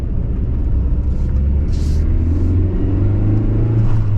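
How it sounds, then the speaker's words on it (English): Cabin drone of a naturally aspirated carburetor car engine while driving, a steady, close, low rumble that holds a constant level with only slight swells. "having a naturally aspirated car with a carburetor where you can hear the engine"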